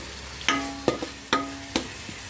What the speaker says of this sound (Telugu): పచ్చివాసన పోయేవారు వేపాలి దీన్ని.